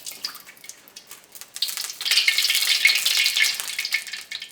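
Chicken pieces going into hot oil for Padang-style spiced fried chicken, a soft crackle that swells into a steady, bright, close sizzle after a quiet start, with no voices.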